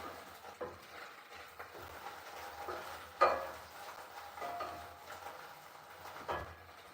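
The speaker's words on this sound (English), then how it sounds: "So we are pan frying the chicken." Chicken sizzles quietly as it pan-fries with soft, steady crackling, broken by occasional clinks and scrapes of a utensil against the cookware.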